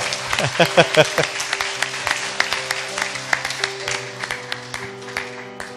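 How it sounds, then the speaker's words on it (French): A church congregation claps and cheers in acclaim of Jesus, dense applause with voices shouting over it at first, settling into steadier rhythmic clapping that carries through to the end. "On acclame Jésus alors."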